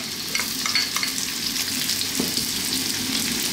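Garlic and ginger hitting very hot oil for a vegetable stir fry crackle in a dense, loud sizzle, with quick stirring scrapes and pops close up, no voices.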